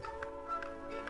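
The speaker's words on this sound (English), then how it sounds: "Hear them ticking?" Ticking of clocks in a Swiss clock setting from a 1947 cartoon, a faint, steady series of regular ticks over a sustained musical tone, about four evenly spaced beats.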